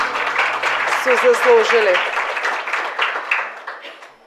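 Applause from an audience at a PR conference interview, a loud, sustained burst of clapping that tapers off, with a voice speaking briefly over the start.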